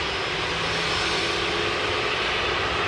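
Aircraft taxiing at Sydney Airport give off a continuous, loud broadband jet engine roar, steady and unbroken from start to end.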